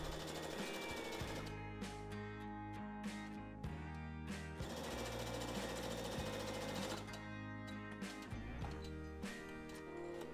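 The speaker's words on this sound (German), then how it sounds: "Die Kante stecken wir fest und nähen hier einmal gerade rüber." Sewing machine stitching straight along a folded fabric edge, 1 to 2 mm from the fold, while making a patchwork bag; a steady, close mechanical whir runs through with brief pauses and rhythmic needle chatter.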